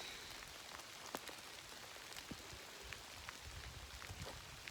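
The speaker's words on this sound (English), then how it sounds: "Looks like I'm going to walk the rest of the day in the rain." Steady rain patters on surfaces all around on the Appalachian Trail near Cove Mountain shelter, a soft continuous hiss broken by scattered sharper drips and taps.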